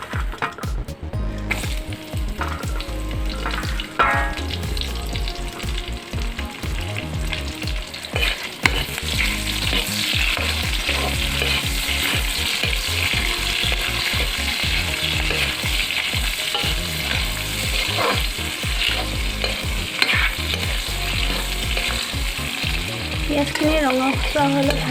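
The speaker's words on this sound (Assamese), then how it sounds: "পিঁয়াজখিনি দি অলপমান ৰঙচুৱাকৈ ভাজিম" Onions sizzle and fry in a hot pan on the way to light browning, a dense continuous crackle with occasional stirring scrapes, close and fairly loud with no talking.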